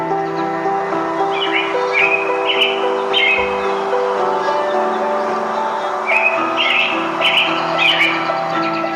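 Birds in a tropical forest give repeated short, bright chirps and calls in loose clusters, heard over a steady, dense background hum.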